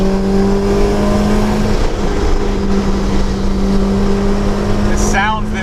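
A Kraftwerks supercharged Honda S2000 CR engine pulls steadily and loudly with a constant droning whine close by, under talk.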